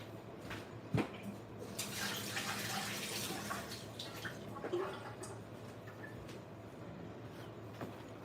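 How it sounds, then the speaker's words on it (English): Hands are washed under a running kitchen tap, a steady faint stream of water with soft splashing and a couple of light knocks against the sink. "I gotta wash my hands again."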